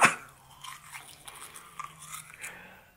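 A battery-powered vibrating toothbrush scrubs teeth and gums, a faint low buzz under wet, irregular scraping and bristle rubbing, close and quiet.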